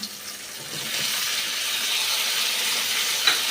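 Potatoes sizzle steadily in hot oil, with a constant bright hiss that grows slightly louder after the first second, close and without talk.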